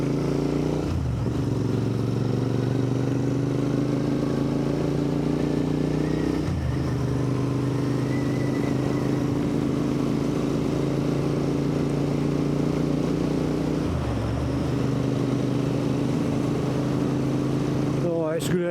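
Royal Enfield Interceptor 650 motorcycle ridden through the countryside: a close, steady engine drone that dips briefly at roughly three gear changes, then settles back into a constant hum.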